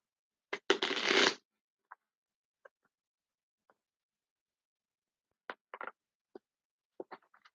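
Oracle cards being shuffled, with one dense riffling burst near the start followed by scattered soft taps and card flicks in an otherwise silent room, close and fairly quiet, with no voices.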